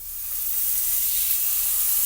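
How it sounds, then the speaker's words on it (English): A burger patty sizzles steadily in a hot oiled grill pan, a close, even hiss with no talk over it. "I'm going to put the burger on first"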